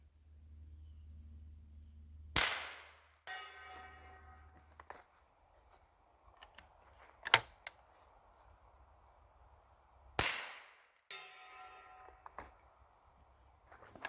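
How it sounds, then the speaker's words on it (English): Two sharp, loud gunshots from a suppressed Henry .357 single shot rifle, each a sudden crack with a short ringing decay, spaced several seconds apart, with small mechanical clicks between and a low hum at the start. "now compare that to the actual gunshot"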